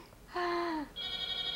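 A telephone rings indoors with two short bursts of clear electronic tones, a lower chirp followed by a higher steady tone, heard alone in a quiet room.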